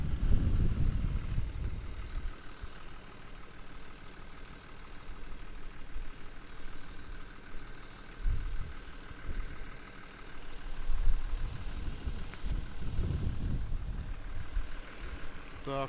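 A heavy tractor engine runs at a steady idle nearby, its low rumble rising and falling, with occasional muffled voices in the background.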